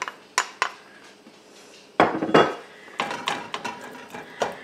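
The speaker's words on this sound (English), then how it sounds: "I'm going to go ahead now and just place my bacon into the pan." Bacon being laid into a frying pan set to medium-high, heard as a series of close, sharp clanks, knocks and metallic clatters of varying loudness, with no speech.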